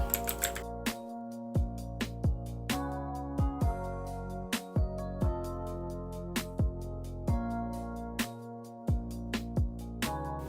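Code is typed on a computer keyboard in short bursts of crisp, close key clicks with pauses between them, each stroke distinct and quiet in an otherwise still room.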